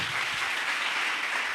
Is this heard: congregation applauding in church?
yes